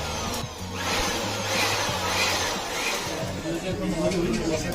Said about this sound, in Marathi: भुजिंगच्या शेगडीला एअर ब्लोईंग मशीनने वारा घातला जातो आहे